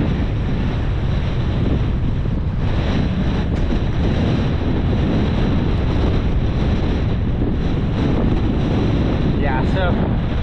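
Strong mountain wind buffets the microphone in a loud, continuous roar with rain, steady throughout and masking most other detail, while a voice is faintly audible beneath.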